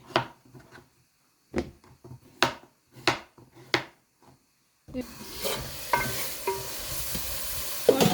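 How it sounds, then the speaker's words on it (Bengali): Chopped prawns drop into a hot frying pan and are stirred with a utensil. Several sharp scraping knocks come first, then a louder, steady sizzle of frying fills the second half, with occasional clacks of the spoon against the pan. "এখন চিংড়ি মাছ দিয়ে দিই"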